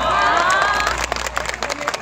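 An outdoor concert crowd at the 2018 Dali music festival applauds and cheers, a dense roar that thins after a second into scattered, uneven individual claps.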